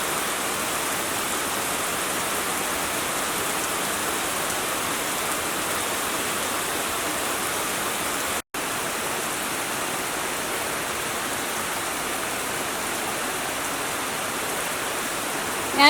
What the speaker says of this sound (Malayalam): നല്ല ശക്തിയായിട്ട് മഴ പെയ്തുകൊണ്ടിരിക്കുന്നുണ്ട്.